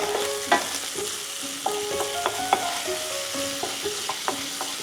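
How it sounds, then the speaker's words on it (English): Bacon sizzles and caramelizes in a pan, with steady frying crackle under repeated scraping stirs of a utensil against the pan, close up and without speech. "Now we can give this a little stir."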